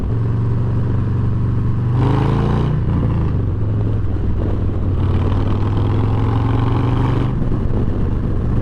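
A Harley-Davidson motorcycle riding on an open road at higher speed, a steady loud engine drone with shifting pitch and heavy wind rush throughout, no talking.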